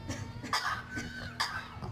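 A parrot imitating a cough at a Canadian Safari parrot show, giving two or three short, raspy coughing bursts spaced apart, fairly soft over a quiet background hum.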